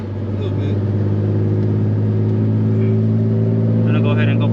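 A turbocharged Nissan 350Z with a freshly built motor and an exhaust leak idles and revs loudly up close, giving a steady deep drone with rising engine tones.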